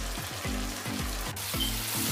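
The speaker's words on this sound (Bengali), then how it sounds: "আর 5 মিনিট আমি খুব ভালো করে এগুলোকে নাড়তে থাকবো যাতে নিচে ধরে না যায়" Chhana and sugar are stirred in a pan for Bengali shondesh, a soft sizzle beneath close, repeated scraping strokes in a steady rhythm. A low tonal hum runs under the stirring, and no one speaks.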